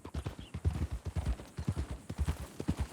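Horse hooves clip-clopping at a walking pace in the Red Dead Redemption 2 video game, a close, rhythmic series of dull thuds on a hard surface that continues evenly throughout.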